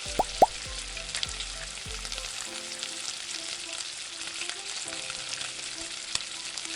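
Chicken pieces deep-fry in hot oil in a heavy kadhai, a dense steady crackling sizzle with a few soft plops at the start as pieces drop in, close and continuous.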